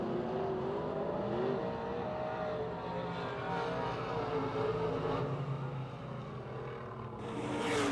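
UMP modified race cars at Pennsylvania Motor Speedway near Pittsburgh roar continuously as the field rolls toward turn 4, a steady engine drone with rising revs near the end.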